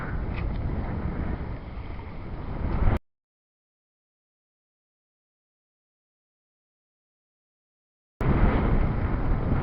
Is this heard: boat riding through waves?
yes